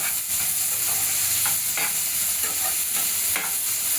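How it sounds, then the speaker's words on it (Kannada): Onions frying for an egg gravy, a constant bright sizzle with repeated scraping stir strokes in the pan, close and fairly loud, with no voices. "ಇದನ್ನ ಸ್ವಲ್ಪ ಚೆನ್ನಾಗಿ ಫ್ರೈ ಮಾಡ್ಕೊಳ್ತೀನಿ."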